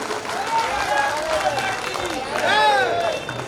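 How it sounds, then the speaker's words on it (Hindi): Audience applause welcoming a speaker at a Vidisha youth council gathering, a dense sustained wash of clapping from many hands, with crowd noise and voices mixed in. "पूरा सदन दोनों हाथ उठाकर तालियां बजाकर अगवानी करे भाई सुमित की।"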